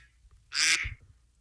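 A duck quack alarm sound effect gives a single short, nasal quack, clear and close against near silence.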